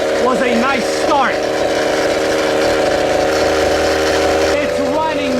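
A 30 Degree North 1/5-scale gas RC buggy engine with a tuned silencer idles and runs steadily throughout, a continuous hum, while someone talks over it at the start and near the end.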